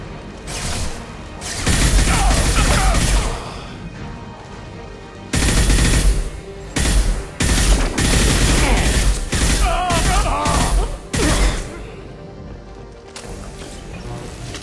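Sustained automatic weapon fire rattles through a Mass Effect 2 firefight, loud bursts of rapid shots repeating in clusters with brief pauses between them, punctuated by heavier thuds and impacts.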